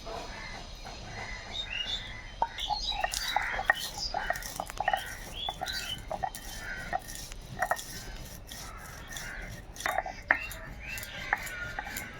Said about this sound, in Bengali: গোটা গরম মশলাগুলোকে শিলনোড়ায় বেটে নেবো